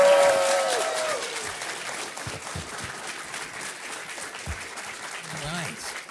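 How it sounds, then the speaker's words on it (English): Applause from a convention audience for the guests on a retro gaming expo panel, starting loud and dense, then thinning and fading into scattered claps and room murmur. "Give them another round of applause"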